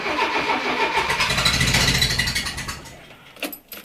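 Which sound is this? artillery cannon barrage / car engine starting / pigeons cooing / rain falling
car engine starting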